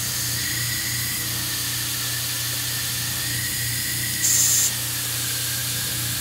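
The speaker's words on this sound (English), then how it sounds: "My air hose is leaking" Compressed air hisses steadily from a leaking air hose during a boost leak test on a car, with a louder sharp spurt of air breaking in briefly over the constant background hiss.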